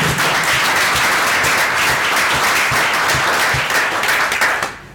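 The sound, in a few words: audience applause for Plexel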